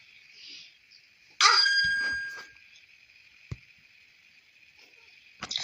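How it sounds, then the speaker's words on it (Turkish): A bell rings once with a bright metallic strike that decays over about a second, followed by faint scattered knocks and a brief second ring at the end, otherwise quiet. "Zil çaldı."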